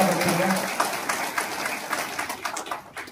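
Audience clapping at a devotional gathering honouring a spiritual master, a burst of applause from a crowd that fades over a few seconds.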